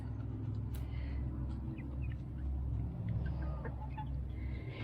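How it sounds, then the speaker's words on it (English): Chickens cluck and murmur softly at close range over a low steady rumble, with scattered short calls popping up throughout. "these are all my chickens"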